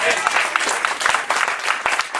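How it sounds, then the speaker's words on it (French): A church congregation claps during a sermon, a lively round of scattered hand claps with individual sharp slaps standing out, mixed with voices in the room. "On applaudit Seigneur, on applaudit Seigneur, on applaudit Seigneur"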